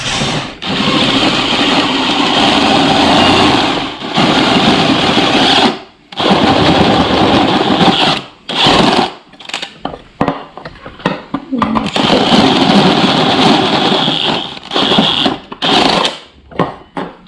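A power drill whines loudly in long bursts while drilling through metal, stopping and restarting several times with short choppy pulses near the end.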